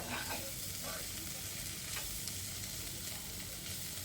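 Food sizzles as it fries in a pan and is stirred, a soft, continuous crackle with a few faint scraping strokes of the spoon, quiet and close.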